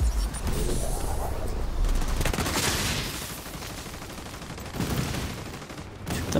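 Rapid bursts of video game gunfire in a Sadr City match, loud sustained volleys for the first few seconds easing into lighter scattered shots, with no voices.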